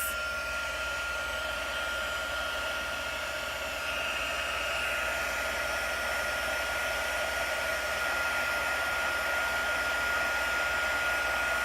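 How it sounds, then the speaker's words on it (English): Heat embossing tool blowing steadily at close range while melting white embossing powder, a loud continuous hot-air roar with a fan whine that holds unbroken for the whole stretch, no voices. "I'm going to heat my heat tool up, melt this."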